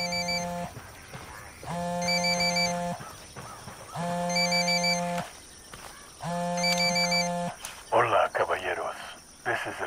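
Phone in Tom Clancy's Ghost Recon Wildlands ringing in four loud, evenly spaced electronic bursts, each about a second long with short gaps between, followed by a burst of rustling and clatter at the end.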